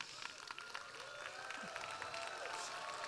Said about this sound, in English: So I want everyone to have a standing ovation and clap your hands together